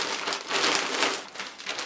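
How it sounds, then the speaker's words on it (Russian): A small plastic bag is pulled from a parcel, producing close, soft crinkling and rustling that swells and fades in brief bursts. "Так, достаю пакетик."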